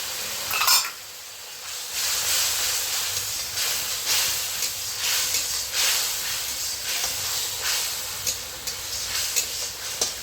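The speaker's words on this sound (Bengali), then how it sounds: "মশলাটা আমি ভালো করে কষিয়ে নিই।" Spices sizzling and hissing in a pan as they are fried for a vegetarian cabbage curry. The sizzle is steady and close, with brief stirring bursts now and then.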